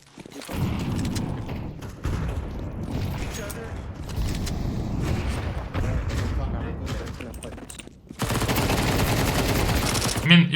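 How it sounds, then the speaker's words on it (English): Counter-Strike 2 gameplay carries bursts of rapid gunfire and loud game effects, dense and continuous for most of the stretch, with a brief dip before another loud burst. "you're just shooting too quickly"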